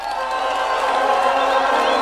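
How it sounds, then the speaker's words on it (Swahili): A large crowd at a political rally in Kenya claps and cheers steadily, a dense continuous wash of applause and voices filling the space throughout. "Mpigeni makofi John Mbadi."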